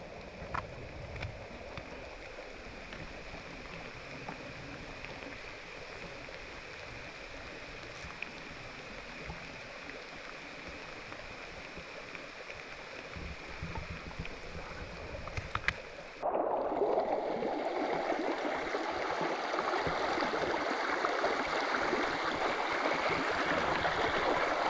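A river flowing along a hiking route in rain, a steady broadband rush of running water throughout that grows abruptly louder and closer partway through, with no voices.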